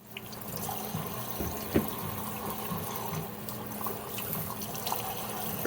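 Tap water runs steadily over freshly picked garden peppers being washed in a sink, a continuous close splashing wash with a few small knocks and no talking.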